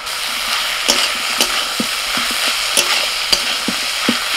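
Shredded cabbage with a little sugar and ginger is stir-fried in a pan, a loud, steady close sizzle punctuated by regular scraping and tapping strokes of a spatula.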